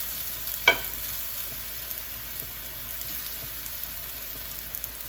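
Collard greens and kale sautéing in a pan, a soft continuous sizzle with one sharper clink early on, fairly quiet and steady with no talk.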